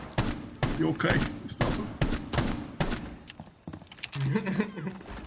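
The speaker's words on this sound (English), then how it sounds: "I need one of you to shoot me in the foot." Gunfire in the Rainbow Six Siege video game, a series of sharp loud shots in uneven bursts spread through the moment, with players talking and shouting between them.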